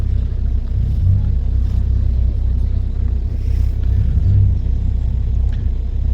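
Low engine rumble of cars rolling in at the Pride of Longbridge classic car rally, a steady idling drone close by with no distinct pass-by, continuous for several seconds.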